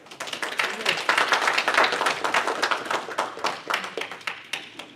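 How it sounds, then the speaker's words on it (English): A church audience applauds with dense, steady clapping that swells and holds across the whole stretch, close and loud with no talk over it. "Don't be shy to applaud each other when we can do this"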